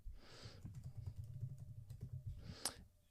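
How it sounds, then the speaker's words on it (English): Rapid typing on a computer keyboard while entering a short name into a waitlist form on a web page, a steady patter of close, quiet key clicks with no talk. "So we're going to type Max."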